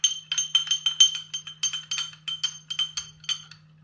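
A spoon stirring salt into a green mocktail in a glass, clinking rapidly against the glass in quick rhythmic bursts, close and clear, with a low steady hum underneath and no talking.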